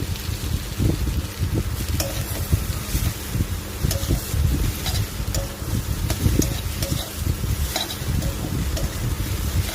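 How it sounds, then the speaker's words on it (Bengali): Chopped roti being stirred together with fried potato in a pan, giving a steady close scraping and sizzling with frequent utensil knocks throughout. "রুটি দিয়ে ভালো করে মিশিয়ে নিচ্ছি"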